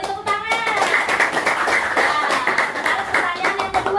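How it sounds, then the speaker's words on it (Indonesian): Classroom students clapping hands together, a lively, slightly uneven patter of many hands close by, mixed with children's voices chattering through it. "Beri tepuk tangan."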